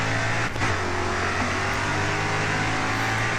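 Super Ute race car engine held at full throttle in GRID Autosport, a loud steady droning roar near 156 mph with no talk over it.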